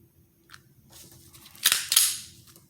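Trigger pull and reset on a midnight bronze Taurus GX4 pistol with a flat trigger: a faint click near the start, then two sharp, close mechanical clicks in quick succession, with no talk.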